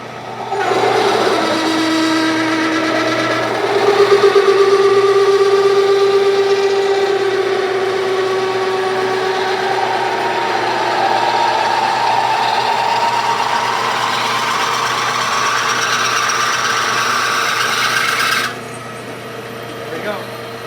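A lathe turns a brass rotary valve casing blank for a brass instrument at about 500 RPM, giving a steady loud whine with shifting tonal squeals and a droning hum throughout that drops off abruptly near the end.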